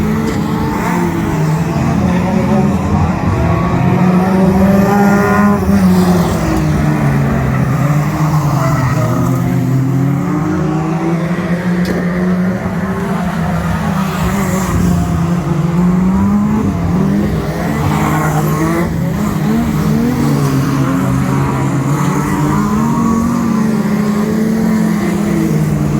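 Stock cars race around the oval at Cowdenbeath in Scotland, sliding on an oil slick, with loud continuous engine roar and rising and falling revs as cars pass close by, punctuated by skidding, and no talk.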